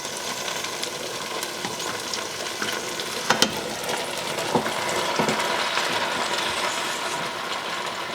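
Macaroni tipped into a pot for spicy mac and cheese and stirred, giving a steady low sizzle and scraping with a couple of brief clinks midway, close and continuous with no talking.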